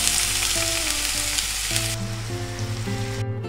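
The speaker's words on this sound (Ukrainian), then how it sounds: "Смажимо її, помішуючи до готовності" Onion frying in hot oil in a frying pan while being stirred, a loud steady close sizzle with scraping stir sounds, continuous and without voices.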